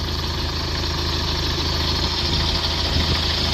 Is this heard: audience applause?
no